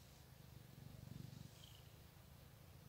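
A house cat purrs softly and steadily while being scratched and tickled, a low continuous rumble close by with faint background hiss.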